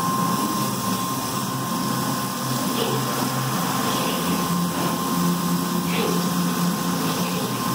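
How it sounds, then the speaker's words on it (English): Steady machine whine and hum of a machine drilling holes over a quarter inch deep in a cast aluminum timing cover, continuous and fairly even, with a thin high tone running throughout. "So the holes it's drilling are over a quarter inch deep."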